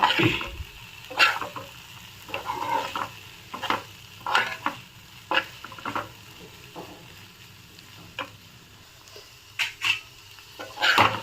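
Okra curry being stirred in a frying pan, repeated scraping strokes in irregular bursts over a soft background sizzle, close and fairly loud.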